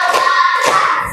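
Hands clapping in a classroom clapping exercise, a couple of quick close claps in a short burst with no voices.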